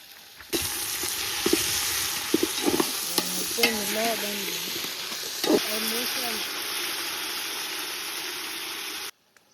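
Tomatoes go into hot oil with onions and green chilies for Tamil Nadu style chicken pulao, and a loud continuous sizzle rises with stirring scrapes and clanks. A short voice is briefly heard in the middle.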